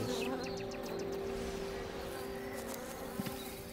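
A bee buzzes in Everybody's Gone To Rapture, a steady drone hovering close over a quiet ambient bed, with faint rustles and a small knock near the end.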